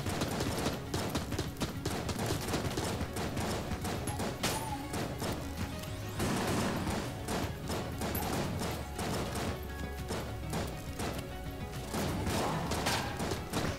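Enemies fire volleys of diamond-patterned bullets in the dungeon video game Enter the Gungeon, a dense, continuous clatter of rapid shots and impacts layered over game music with no talk.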